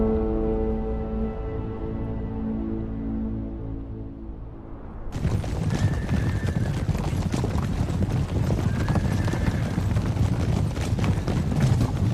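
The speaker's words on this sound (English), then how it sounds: "every horse that runs here" Horses running at a track near the Qilian Mountains in Gansu, China, with steady clip-clopping hooves that start as a tonal hum fades and then fill the scene with continuous, busy hoofbeats.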